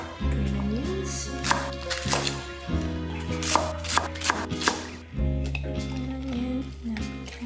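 A knife chops green onions on a cutting board in a home kitchen, a quick run of light taps over a steady music bed, with a brief pause before the chopping resumes.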